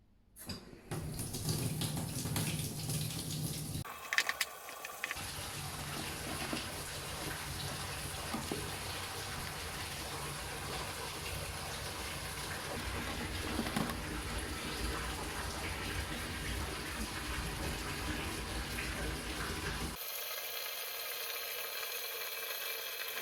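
A bathtub fills from a running tap, a steady rushing gush that continues for about twenty seconds after a brief start, with a few handling knocks and no clear talk.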